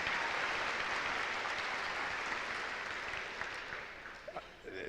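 Dense, sustained applause from a large audience at a school awards event, a steady wash of many hands that slowly fades and breaks into a few scattered claps at the end.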